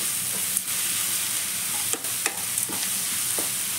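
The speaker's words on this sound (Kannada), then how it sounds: "ಇವಾಗ ತುರಿದಿಟ್ಕೊಂಡಿರೋಂಥ ಮಾವಿನಕಾಯಿ ಹಾಕೋತಾ ಇದ್ದೀನಿ. ಒಂದೆರಡು ನಿಮಿಷ ಫ್ರೈ ಮಾಡಿಕೊಂಡ್ರೆ ಸಾಕು." Grated raw gini mango fries in a pan for rice dish, a loud, even sizzle with several sharp spoon scrapes and clacks scattered through, heard close and without any talking.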